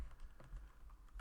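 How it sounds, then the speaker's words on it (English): Typing equations on a computer keyboard: a short, steady burst of close keystrokes tapping in quick rhythm, with no voices. "I've just typed everything in as we've written it here and pressed enter"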